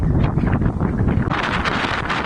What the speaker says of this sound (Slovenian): Malo pa piha, veš.